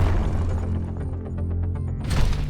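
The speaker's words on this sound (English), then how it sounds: "A powerful explosion occurs in the tank after the attack." Tank hit by an FPV drone explodes: a loud, sustained roar of blast and rumble, with crackling debris and a fresh burst swelling near the end.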